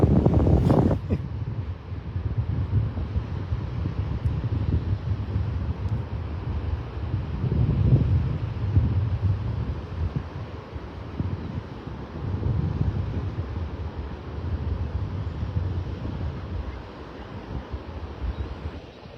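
Ocean waves break on a sandbar off a Naples, Florida beach near Clam Pass, a continuous low wash and rumble swelling and fading under heavy wind buffeting the microphone.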